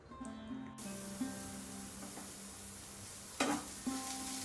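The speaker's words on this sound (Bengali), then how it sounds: "এখানে পেঁয়াজ রসুন আর লঙ্কাটাকে ভাজা হতে দিয়ে দিয়েছি" Onion, garlic and chili fry in a pan, a steady close sizzle that bursts louder after a moment, with stirring scrapes and tonal music underneath.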